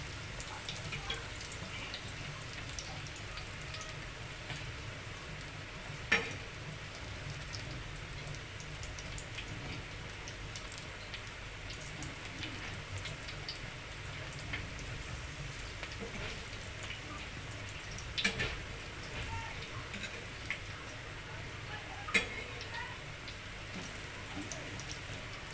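Alu vadi shallow frying in a pan of oil, a soft, continuous sizzle and crackle heard close but faint, broken by a few sharper pops.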